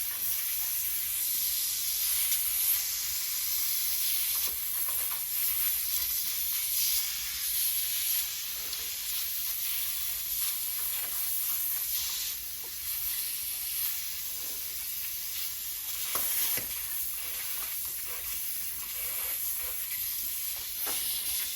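Air hissing out of a tractor tyre on a 1974 Bolens HT20 as the valve is taken out, a steady close hiss that carries on for the whole stretch with slight wavering and no voices.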